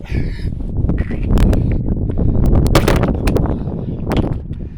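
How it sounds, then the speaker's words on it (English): Heavy wind buffets the microphone in loud, rumbling gusts with sharp crackling bursts, no voices heard. "bit windy out here today."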